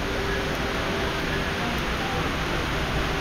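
An indoor waterfall inside Dubai Mall gives a steady, even rush of falling water that fills the space as a constant broadband wash, moderately loud with no clear speech on top.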